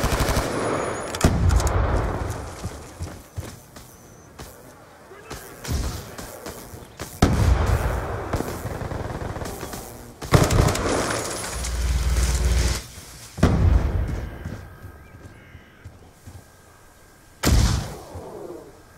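Heavy Call of Duty Black Ops 2 combat: rapid machine-gun bursts and repeated booming grenade explosions erupt in loud, irregular waves, with brief lulls between the blasts.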